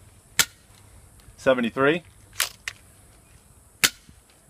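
A Dart Zone Tri-Fire foam dart blaster fires several sharp, separate pops, spaced apart, while a voice speaks briefly in between.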